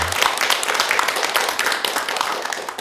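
An audience at a Korean lecture on insomnia gives a short round of clapping, a bright, even wash of many hands sustained throughout at close, moderately loud level.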